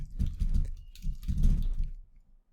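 Close, muffled key presses on a computer keyboard as an affiliate type name is entered, forming two quick clustered bursts of soft clicks before stopping.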